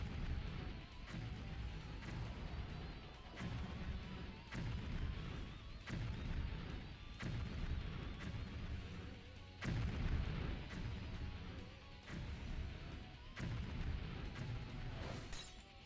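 Enemy artillery fire in the video game Demon Roots sounds as a steady run of heavy booms and shattering bursts, loud and dense throughout, with no speech over it.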